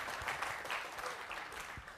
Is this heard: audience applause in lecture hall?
yes